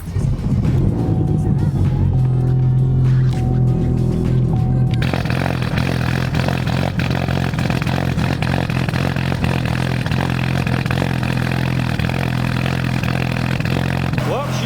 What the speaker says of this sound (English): Let's go ahead and give her a little bit of a cold start.